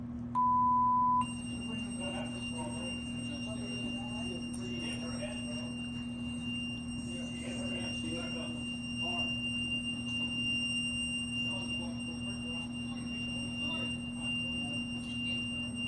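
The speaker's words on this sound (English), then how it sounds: "what is the beep?" A short electronic beep sounds once near the start, followed by a steady high-pitched tone and hum over faint background voices.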